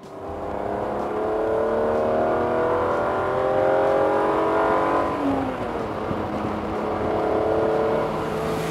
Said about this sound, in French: Un 6 cylindres atmosphérique, ça n'existe plus beaucoup et ça fait un beau bruit.